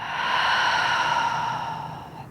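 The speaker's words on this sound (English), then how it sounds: "take a big breath in and exhale it out" A deep, slow exhale during a yoga session, one long, breathy airflow that is clear and close, swells and then fades over about two seconds.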